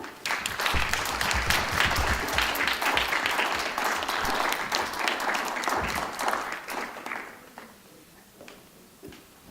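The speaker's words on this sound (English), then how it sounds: "let's give her a round of applause." A crowd applauds steadily for several seconds, the clapping gradually thinning and fading out toward the end.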